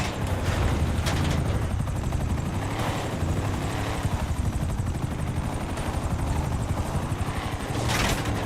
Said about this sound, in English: There are those helicopters I mentioned.